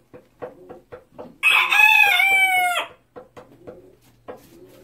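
A pet rooster crows once, loud and close: a rising, strained cock-a-doodle-doo lasting over a second. It is framed by a series of short, sharp clucks and knocks before and after.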